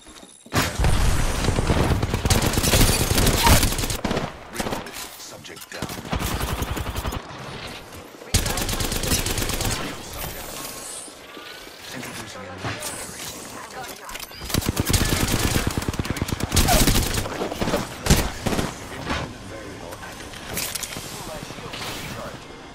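Gunfire in the shooter Apex Legends, with bursts of rapid automatic fire and single shots coming in loud, dense clusters separated by quieter gaps, mixed with game effects and a voice speaking.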